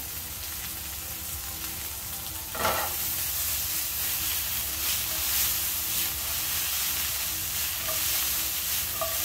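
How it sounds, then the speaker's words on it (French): Carrots and radishes sauté in a frying pan with a steady broadband sizzle, stirred, rising sharply around a third of the way in as the vegetables hit the pan and continuing alone and fairly close. "Sur un côté de la poêle, on verse nos carottes et nos radis."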